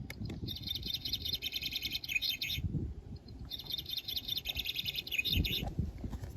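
A toy Barbie RV camper plays a looping electronic birdsong, bright repeated chirps in two phrases separated by a short pause, over a low rumbling handling noise.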